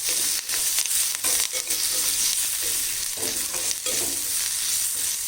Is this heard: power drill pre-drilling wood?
no